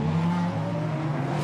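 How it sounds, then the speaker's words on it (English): DTM race cars at the Norisring pull away on their formation lap, a brief loud burst of engine drone with tones sliding as they accelerate past, no talk. "the cars are released now, bang on time on their formation lap"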